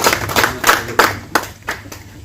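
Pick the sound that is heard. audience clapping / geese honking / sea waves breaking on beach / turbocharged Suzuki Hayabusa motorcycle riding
audience clapping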